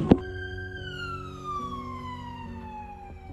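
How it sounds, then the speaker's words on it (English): A siren wails with a slowly falling tone, moderately distant, after a sharp knock at the start. "Sirens."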